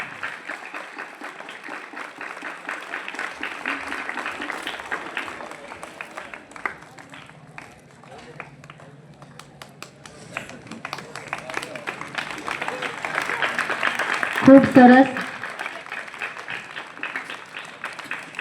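Audience applause for children at a primary school Republic Day event in a village, a steady patter of clapping running under an announcer's voice and crowd murmur, swelling louder near the end.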